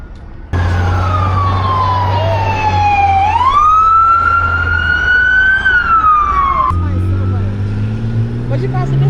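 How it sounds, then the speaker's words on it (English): An ambulance siren wails loud and close on a Las Vegas street, its tone sweeping down then rising and falling in long slow cycles over steady traffic rumble, with a voice briefly audible. "The ambulance made the light"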